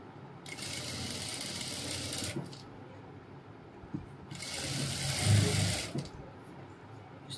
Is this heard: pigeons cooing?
no